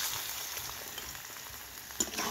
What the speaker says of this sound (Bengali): আলুগুলি আমি খুব ভালোভাবে ভেজে নেব